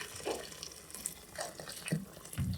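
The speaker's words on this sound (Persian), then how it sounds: "الان من آبجوش رو اضافه میکنم." Boiling water from an electric kettle poured over meat and onions in a pot for ghormeh sabzi stew, a faint intermittent splashing and trickling pour with small gurgles, heard alone.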